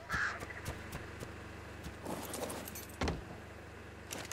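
A bird creature in the modded survival game ARK calls out in sharp, repeated cries near the start, with scattered clicks and other game sounds through the rest.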